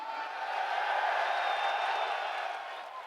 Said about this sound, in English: getting the ovation from this crowd right now